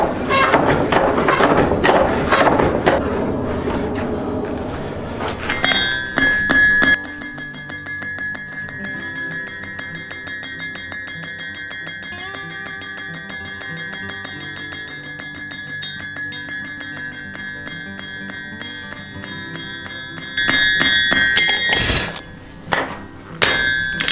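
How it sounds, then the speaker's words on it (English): Hot metal stock is hammered on an anvil while being slowly turned to round a taper. Quick ringing clangs open the passage, a long bright sustained ring follows, then a second flurry of strikes near the end. "slowly turn it on the anvil and keep up a consistent hammer speed to make it a nice circle"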